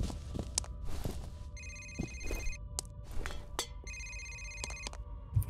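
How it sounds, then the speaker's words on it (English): A telephone rings in the video game F.E.A.R., two bursts of bright electronic ringing at moderate volume over quiet ambient game sound, with scattered faint footsteps and clicks. "Okay, where's that phone?"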